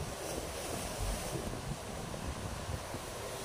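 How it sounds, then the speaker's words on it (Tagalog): Ocean waves rocking a boat at sea, heard as a steady, loud broadband wash of surf with gusty wind noise buffeting the microphone throughout, with no talk. "Kitang-kita nyo ang alon"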